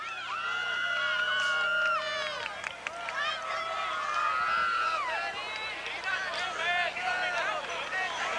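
A crowd at a 1997 state finals baseball game cheers and shouts, with a steady wash of many voices and whistle-like calls throughout, while an announcer's voice runs over the top.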